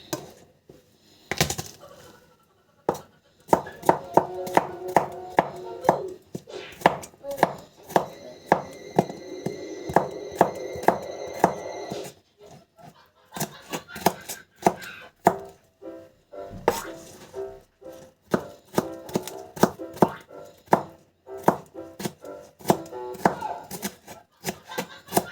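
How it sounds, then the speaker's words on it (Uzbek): A knife chops garlic and onion on a board in rapid irregular taps, pausing and restarting, with clear close thuds and some faint background voices and tonal sound between bursts. "Sarımsak piyoz doğrayacağız."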